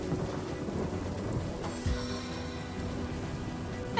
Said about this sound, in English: Is it raining water and fire now? Seems to be raining fire, yes.